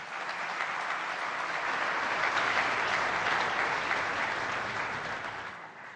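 Sustained applause from a conference audience at the Raisina Dialogue, a dense, even clapping that swells slightly and then fades near the end, with no talking over it.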